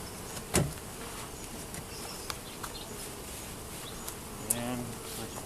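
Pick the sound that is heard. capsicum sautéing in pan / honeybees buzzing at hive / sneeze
honeybees buzzing at hive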